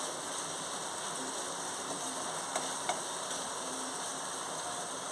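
Mushroom and capsicum fried rice being stirred in a pan, a steady broadband sizzle with faint scraping taps from the spoon, continuous and moderately close with no talking.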